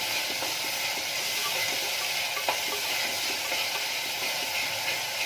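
A ginger and green chilli paste sautes in a clay pot, giving a steady, dense sizzle and hiss that holds throughout at close range, with faint stirring clicks scattered beneath it.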